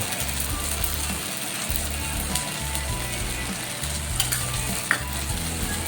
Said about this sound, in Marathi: तर कमी गॅसवर मी आपल्याला हे छान भाजून घ्यायचंय.